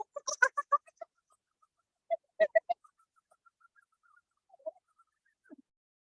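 A voice imitates a kookaburra call, a short solo burst of rising, chattering whoops, then a second shorter burst and a few faint trailing notes in a quiet room.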